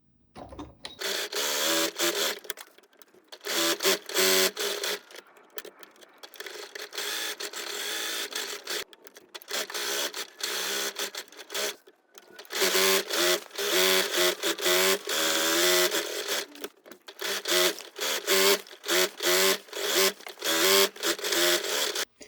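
A sewing machine stitches the seams of a simple sun dress at a 1.5 centimetre seam allowance, running in bursts of dense mechanical whirring, close and steady, with brief pauses between runs.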